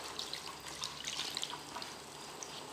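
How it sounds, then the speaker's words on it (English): Sheet of paper being submerged and soaked in a tray of water for wet-on-wet painting, faint soft trickling and light dripping with small watery bubbles, quiet and close, no voice. "you want to soak your paper. So you put it in the water."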